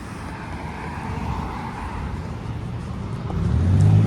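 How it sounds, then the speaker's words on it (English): An Orion 7 city bus's engine rumbles past outdoors amid traffic noise, growing louder toward the end as it approaches. "here comes a My Way bus, an Orion 7"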